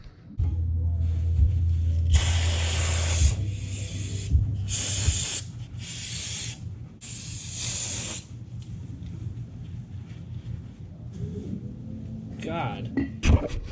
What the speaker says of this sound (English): Just from spraying it, so much gunk is coming off.